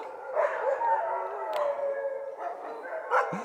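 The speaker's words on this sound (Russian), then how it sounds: "собачьи будки для ездовых собак. Вон они. Ничего себе вой здесь." Sled dogs at kennels in Finnish Lapland, Urho Kekkonen National Park, howling in a chorus of overlapping wavering howls, moderately loud, with a few brief yips.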